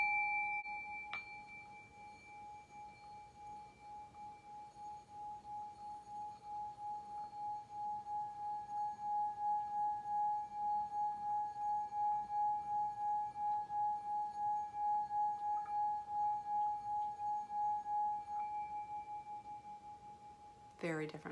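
Small Tibetan singing bowl struck once with a tiny wooden mallet, a bright, clear metallic ring that sustains for many seconds with a slow pulsing wobble before a faint knock at the end.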